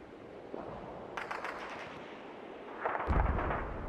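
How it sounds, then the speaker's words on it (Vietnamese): An anti-tank bazooka fires in the Call of Duty video game, a muffled launch followed by a heavier blast near the end, set against steady background rumble of battle. "Rồi lấy khẩu này. Súng chống tăng."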